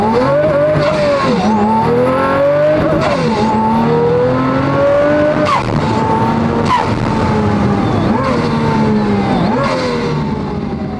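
A Pagani supercar accelerates hard through a third-gear pull, its engine note climbing loud and close in repeated rising sweeps, with brief dips at gear shifts and a whistling high tone above.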